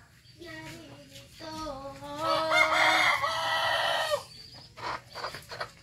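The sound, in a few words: caught chicken clucking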